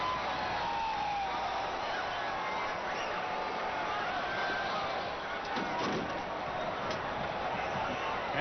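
Huge crowd of over 55,000 at the 1988 Belmont Stakes horse race roaring in a continuous dense wall of noise, steady and loud throughout with a few sharper bursts, heard from a distance.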